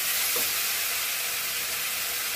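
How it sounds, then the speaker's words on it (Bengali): Potatoes stir-fried and mixed in a hot pan for a fried dhoka curry, a steady loud sizzle and hiss filling the whole moment, close up, with no speech. "এই আলুটা দিয়ে ভালো করে কষে নেব মানে মিশিয়ে নেবো।"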